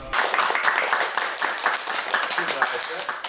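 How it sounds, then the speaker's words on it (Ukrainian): Children give friendly applause at the close of a media school lesson at a TV channel, brisk clapping close by with voices talking over it. "Навряд чи звичайний шкільний урок може закінчуватися дружніми оплесками."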